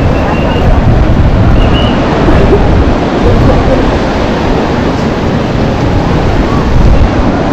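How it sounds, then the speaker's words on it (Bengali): Strong wind roars on Saint Martin island beside a rough, stormy sea, a loud, constant rush of gusts buffeting the microphone and masking any distinct wave breaks. "প্রচন্ড বাতাস, আর সে সাথে ঢেউ আমরা দেখতে পাচ্ছি।"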